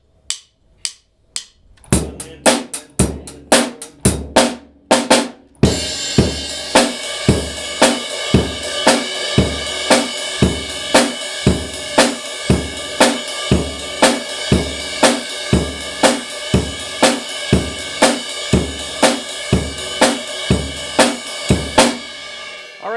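A drum kit plays a steady rock beat: sparse kick and snare hits at first, then a sustained crash cymbal wash with driving bass over a regular pulse.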